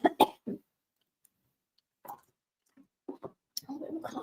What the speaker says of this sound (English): Cough there.